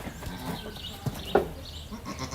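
Goats on a farm giving a couple of short bleats over quiet background murmur, one soft and one louder a moment later.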